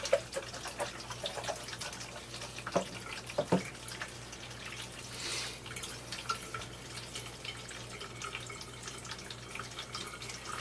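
Water drains from a Wonder Wash portable hand-crank washer through a plugged-in drain pipe once the lid pressure is released, heard as a quiet, uneven trickle with scattered drips over a faint background hum.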